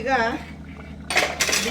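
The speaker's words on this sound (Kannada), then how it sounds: "ಈಗ ಕುಕ್ಕರ್ ಕ್ಯಾಪ್ ಹಾಕ್ತಾ ಇದ್ದೀನಿ." A pressure cooker lid is fitted onto the pot while fish curry cooks, giving two short bursts of metallic clanking and scraping close by. A voice is briefly heard at the start.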